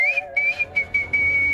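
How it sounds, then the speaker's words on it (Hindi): A person whistles a short, high, steady tune in several clipped bursts, close and clear with no talking over it. "मैं सीटी बजाता हूँ"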